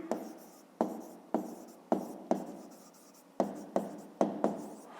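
Pen writing by hand on paper during a fifth-grade maths exercise, about ten crisp stroke onsets each fading into soft scratching, close and quiet, with no talk.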